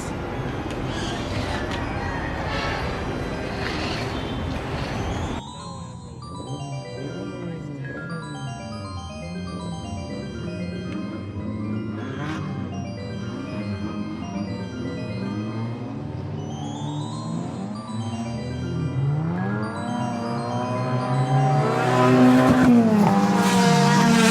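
Siarra Magic RC car running outdoors over gravel, a high whining electric motor that rises and falls with throttle bursts, crunching grit underneath, and a voice talking over it.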